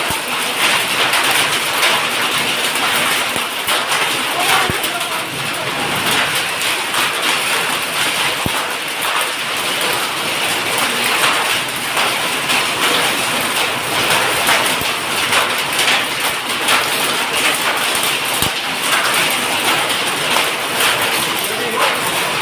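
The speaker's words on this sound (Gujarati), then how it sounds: "ઘડીકમાં કેટલો વરસાદ આવી ગયો." During a windstorm, heavy rain with hail pours down in a loud, unbroken roar, with occasional sharp hailstone impacts standing out from the dense wash.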